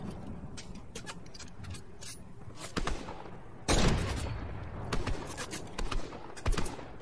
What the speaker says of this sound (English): Ooh, there's lots of gunshots.